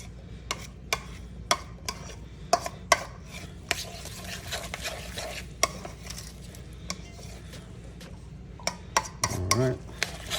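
A couscous salad is tossed in a bowl, giving a series of light, sharp clinks and taps of a utensil against the dish at an irregular rhythm, fairly quiet and close, with faint background noise.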